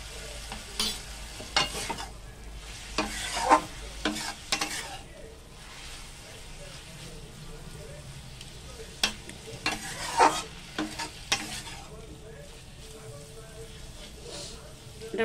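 Chickpea greens are stirred and fried in a pan with a spoonful of roasted gram flour, with irregular bursts of spatula scraping and knocking over a low, steady sizzle.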